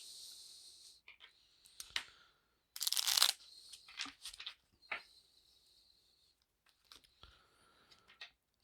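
Crisp, brief riffling bursts of cards being shuffled, with scattered clicks and snaps between them, close and fairly quiet.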